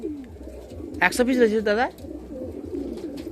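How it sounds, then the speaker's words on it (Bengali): Madras pigeons coo inside a loft at a house in Mechheda, East Medinipur: a brief, close cooing burst lasting under a second, with someone speaking around it. "এই লফটের মধ্যে কবুতর রয়েছে"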